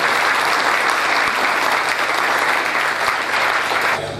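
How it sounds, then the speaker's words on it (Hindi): Loud, sustained applause from a theatre audience after a stage play, dense clapping filling the hall and cutting off near the end. "एक बार इन सभी के सम्मान में जोरदार तालियां"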